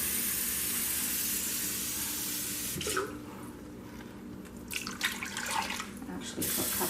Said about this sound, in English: Put a cup of water in there.